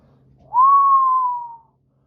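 A single impressed whistle rises quickly and then holds a clear steady tone for about a second before gliding gently down and fading out. It sounds close and fairly loud, with no speech around it.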